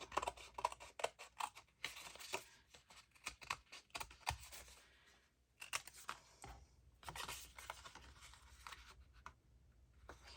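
Scissors snip and trim paper Christmas scraps for ephemera crafting, a close series of short irregular cuts with paper rustling between bursts, fairly quiet with no talking.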